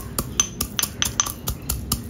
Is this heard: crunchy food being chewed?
no